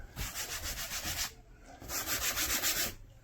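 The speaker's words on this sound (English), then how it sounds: "Sometimes when canvas is sort of noisy in the night, it can be disturbing" Rhythmic scratchy rubbing of a canvas camping cot, like fabric dragged back and forth against a taut surface, in two bursts with a short pause between.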